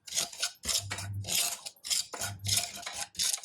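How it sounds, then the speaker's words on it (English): Rava (semolina) dry-roasting in a heavy pan: a metal spoon scrapes and stirs in quick back-and-forth strokes, close and crisp, with dry grainy rasping between the strokes. "first we'll dry roast the Rava"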